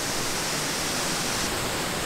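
Water rushing through a forest gorge in Sweden, a dense, steady hiss of flowing water close by and fairly loud, with no voices.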